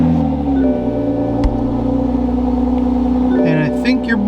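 A 2020 Toyota Supra engine fires up and settles into a loud, steady, low rumble heard from inside the car, with a few faint electronic chimes toward the end.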